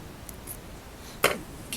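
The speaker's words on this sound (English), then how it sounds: "Now we can cut this remaining portion off." Scissors make a single quick snip, trimming leftover material while a Black Pennel fly is tied at a quiet bench, with a faint steady background hiss.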